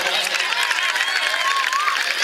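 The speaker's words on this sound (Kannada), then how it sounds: "ಕೈ ಇದ್ದಂತವ್ರು ಚಪ್ಪಾಳೆ ಒಂದ್ಸಾರಿ ಕೊಡ್ಬೋದಾ?" Crowd applause at a women's open kabaddi quarterfinal, a dense steady roar of clapping and cheering holding throughout with a voice carrying over it.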